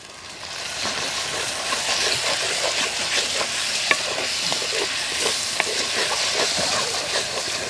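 Ginger garlic paste fries in a pan with green chilies, coriander, mint and onions for jackfruit biryani, giving a loud continuous sizzle under steady scraping stir strokes and a couple of sharp clicks.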